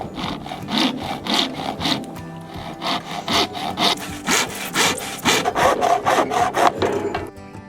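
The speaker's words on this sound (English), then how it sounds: "We cut the next fascia down to size and fitted it into place." A saw cuts through a wooden fascia board on a tiny house cabin build, back-and-forth strokes rasping steadily and loud, close up, with no talking.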